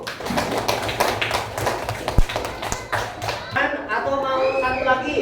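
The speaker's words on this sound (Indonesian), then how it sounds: "Tepuk tangan untuk kelompok 1." Students in a classroom clap for group 1, a run of quick close taps that builds into a denser spell of applause while a voice talks over the start.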